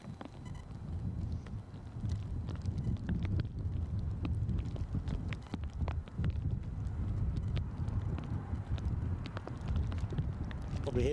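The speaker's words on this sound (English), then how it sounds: "Probably hear the wind picking up." Wind gusts outdoors at Edinburgh airport, buffeting the microphone with a loud, continuous low rumble and irregular thumps across the whole stretch.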